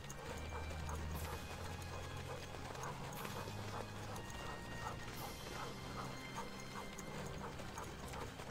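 Sled dogs running in a video game, rendered as a steady patter of footfalls with rattling harness clatter and a low rumble underneath, continuous and moderately faint throughout.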